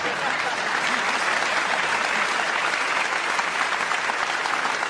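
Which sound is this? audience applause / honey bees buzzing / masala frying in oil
audience applause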